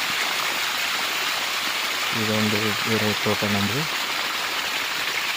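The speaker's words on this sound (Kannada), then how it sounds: "ಇದು ಸ್ಪ್ರಿಂಕ್ಲರ್ ಪೈಪಿಗೆ ಒಂದು ಇಂಚು ಚಾವಿಗಳನ್ನು ಅಳವಡಿಸಿ ನೀರು ಹಾಯಿಸುವ ವಿಧಾನ" Water runs steadily from one-inch taps fitted to a sprinkler pipe in a sugarcane field, making a constant even rush while someone speaks briefly over it.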